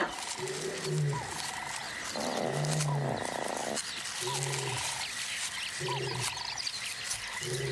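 A male lion roars in the African wild, a series of deep, drawn-out calls with pauses between them, strong and resonant over a constant bed of insect and frog chorus.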